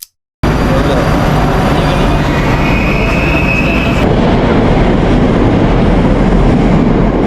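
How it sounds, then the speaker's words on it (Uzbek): A metro train rumbles along loudly after a brief silence, a constant heavy roar with a high whine that cuts off partway through. "Mana poyezdimizga otdi. Poyezd emas, metro."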